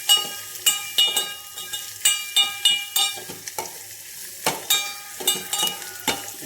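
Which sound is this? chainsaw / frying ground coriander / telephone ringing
frying ground coriander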